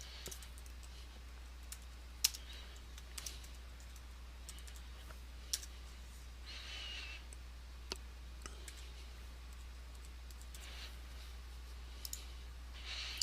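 Light clicks and taps on a computer keyboard come sparse and irregular while an administrator password is entered, faint and close, over a steady low hum.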